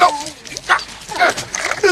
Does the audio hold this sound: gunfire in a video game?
no